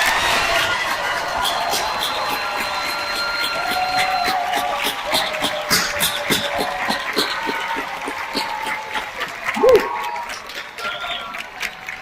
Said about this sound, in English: how about one more great round of applause for the class of 2022